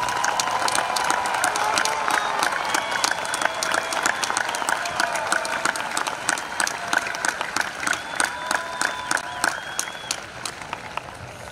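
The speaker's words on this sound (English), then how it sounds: "Let's give them a round of applause." Sustained applause from a large audience at a high school graduation ceremony, many hands clapping steadily with scattered cheers and whistles, the rhythm turning into sharper synchronized claps toward the end.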